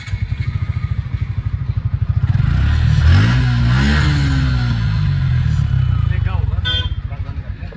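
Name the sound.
motorcycle engine running while warming up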